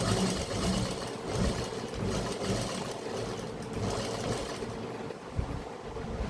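A sewing machine stitches the neckline of an A-line frock, a steady close mechanical hum that runs continuously and eases slightly toward the end.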